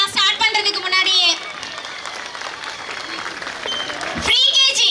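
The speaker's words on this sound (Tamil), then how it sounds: "ஒரு கைத்தட்டல் கொடுக்கலாம் ஸ்டார்ட் பண்றதுக்கு முன்னாடியே." An audience at a school annual day claps in a burst of applause, with a voice talking over it at the start and end.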